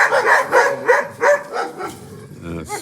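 Several dogs bark repeatedly at a fence outdoors, a run of loud, close, overlapping woofs through most of the stretch, easing into softer yips and whines near the end.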